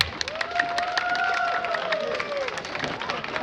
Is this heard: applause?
yes